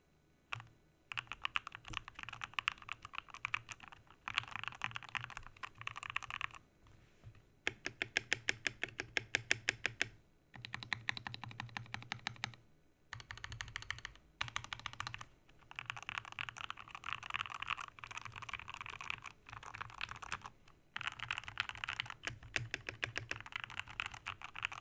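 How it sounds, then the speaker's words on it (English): Typing on a newly built mechanical computer keyboard, a dense patter of key clicks in bursts separated by short pauses, close and steady throughout with no talking. "I'm gonna let you guys hear what this keyboard sounds like when I close it"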